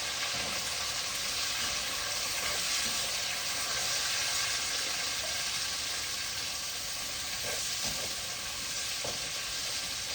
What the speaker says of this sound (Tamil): இப்போ கருவேப்பிலை போட்டுக்கொள்கிறேன். இப்போ வெங்காயம் போட்டுக்கொள்கிறேன்.